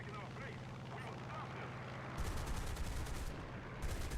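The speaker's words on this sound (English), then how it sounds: "I sit on his tail blasting away to absolutely no effect" Rapid machine gun fire from an F6F-5N Hellcat in the War Thunder arcade air battle, bursting in loud dense rattling strings after a droning engine, with a brief pause before a final burst.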